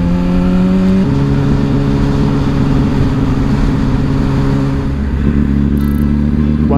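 Motorcycles ride along a road through Josanke in Hokkaido, engines droning steadily and close with a clear pitch shift as gears change and revs rise and fall.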